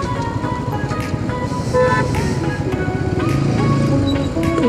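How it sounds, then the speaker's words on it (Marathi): Congested road traffic on a bike ride toward Malshej Ghat: a steady rumble of engines with several car and motorbike horns tooting near and far, some overlapping in quick short blasts. "तर गाईज आता ट्रॅफिक लागले आहे."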